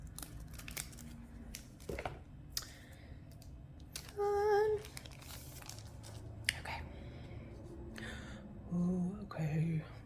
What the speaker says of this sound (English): I'm going to use my black and red scissors.